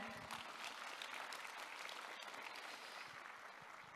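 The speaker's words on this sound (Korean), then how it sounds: "다시 한번 뜨거운 박수 부탁드리겠습니다." A conference hall audience at the opening ceremony of the 2022 World Korean Community Leaders Convention gives warm, sustained applause, a continuous wash of many hands clapping that stays even from start to finish, soft in level and without voices.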